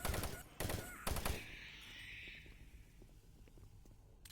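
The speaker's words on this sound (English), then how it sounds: "I'm gonna switch to my machine gun here." Machine gun fire in the first-person shooter Doom 3 comes as a few loud, dense bursts in the opening second or so, then trails off into quieter game ambience.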